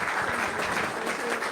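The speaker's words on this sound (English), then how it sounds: "I would require from you a big applause for these 21 years girls, Enea and Denisa" Audience applause at a project management conference in Kosovo, a short burst of steady clapping from the hall, moderately loud and uninterrupted.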